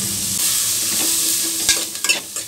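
Cashews, cinnamon, cloves, cardamom, pepper, onion, garlic and ginger sizzle loudly in a hot pan for a mushroom masala. The frying hiss is steady and close, and near the end a few sharp spoon scrapes and clacks stand out.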